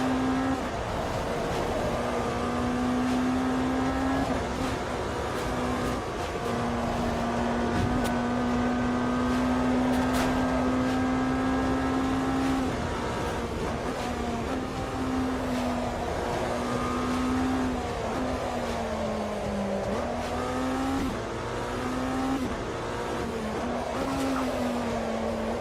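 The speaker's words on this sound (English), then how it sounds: "Downshifting twice, coming into a carousel like that." An LMDH prototype race car engine in a sim racing game drones steadily, its pitch dipping and climbing through repeated downshifts and throttle blips, loud and close with no talk.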